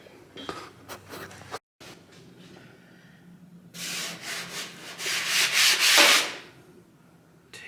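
Paint is being stripped from a Chevelle car fender, first in faint intermittent scrapes, then a loud sustained rasping scrape lasting a couple of seconds before tapering off.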